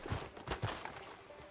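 Horse hooves clip-clopping on a town street in the video game Red Dead Redemption 2, a few soft, fairly faint hoof thuds in quick uneven rhythm with no talk over them.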